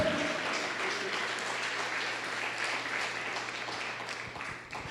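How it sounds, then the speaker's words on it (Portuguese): A church congregation claps and applauds continuously and energetically throughout, a dense wash of hand claps that stays loud without pause. "Aplauda o Senhor mesmo."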